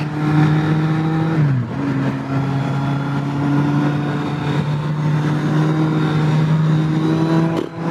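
A 2015 Kawasaki Z800 naked motorcycle is ridden hard on a road, its engine droning loud and close with a steady high pitch, dipping briefly as the rider shifts gear and then climbing again.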